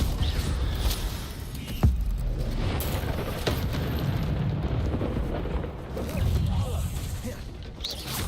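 Incendio fire spell cast in Hogwarts Legacy: a dense roaring, rumbling burst of fire and combat noise with sharp crackles, mixed with game sounds and a voice.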